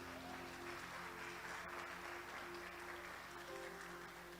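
A church congregation applauds at a service, a steady, dense wash of clapping from many hands that holds at an even level throughout, with a faint sustained tone beneath it and no speech.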